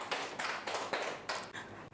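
A classroom of students claps hands together in a lesson on spa theory, a quick burst of overlapping claps in several pulses, fairly close and moderately loud.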